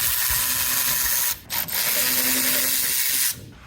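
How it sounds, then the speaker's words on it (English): A power tool or ratchet works loose a brake caliper bracket on a car's front brakes, producing a loud, dense, continuous mechanical whir broken by brief pauses, close up with no talking. "so now we're going to go ahead and get our caliper bracket removed"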